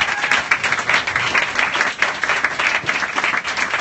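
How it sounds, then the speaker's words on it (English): Audience applause for the speakers at a science communication event, a dense and lively clapping from many hands, fairly close and loud, running steadily throughout with slight swells and no talk over it. "we should have a big round of applause for all the speakers"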